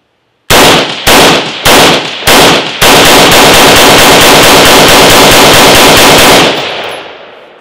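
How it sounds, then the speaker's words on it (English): A rifle fires 20 rounds from an M3 PMAG magazine during a torture test: several loud, sharp shots in quick succession run into one sustained rapid burst, then the sound decays into quiet. No one speaks. "let's go ahead and see if it'll run the 20 rounds without any issues"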